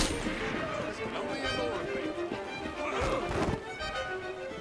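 A gunshot rings out in a chaotic Assassin's Creed Syndicate street fight, with a sharp burst near the end standing out from dense background clatter and shouting.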